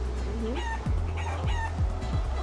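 Chickens in the video game Guacamelee! cluck and squawk in quick, repeated calls over constant game music and ambience, moderately loud and with no speech.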